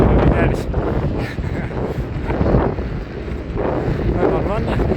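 North wind buffeting a microphone on the Yakutsk–Magadan highway, a loud continuous roaring rumble with gusty swells throughout, without clear speech.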